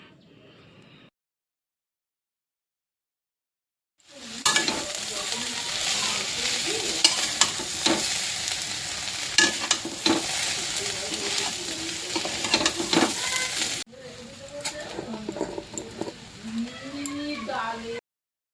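Roti chowmein stir-fried in a pan, a steady loud sizzle with scraping stirs running for several seconds, then a quieter stretch of frying with light clinks near the end.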